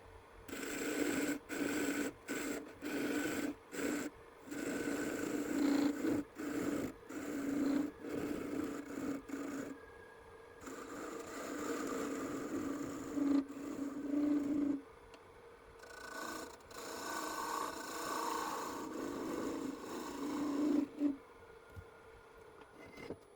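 A wooden Easter egg spins on a lathe, supported from the right side while it is turned. Quiet, rhythmic bursts of cutting alternate with a steady motor hum, stopping and starting over the stretch with no talk.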